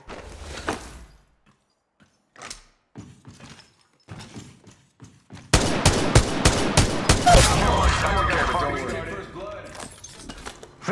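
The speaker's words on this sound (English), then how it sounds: "Firing. Shots fired and they're hitting me." Gunfire erupts in the mobile battle game Apex Legends Mobile: scattered faint shots and game sounds at first, then a loud rapid burst of automatic fire with impacts, under a player speaking.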